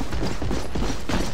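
Weapon reload in the shooter game Metro Conflict: a quick burst of metallic clicks and ratcheting mechanism sounds, loud and close, a few sharp clacks within about a second.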